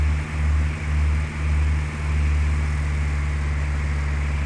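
Simulated Cessna Skyhawk piston engine throttled back to about 1900 RPM in Flight Simulator 2004, a loud steady droning hum with a few slight dips in the first two seconds, then constant.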